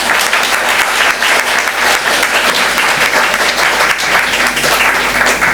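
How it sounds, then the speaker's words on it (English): Loud, dense applause from a lecture audience follows a talk on Russia as a declining power, continuous clapping filling the room at a steady level from start to end. "I suggest we will applaud Marie for this fantastic talk."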